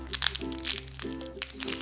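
Mexican extra-spicy natural tamarind candy wrapper being crinkled and torn open by hand, a close, quiet series of plastic crackles and crunches.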